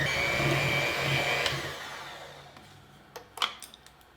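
A kitchen blender grinds Oreo cookie crumbs into a truffle mixture, a loud steady whir that winds down after about a second and a half, followed by a few faint clatters and taps.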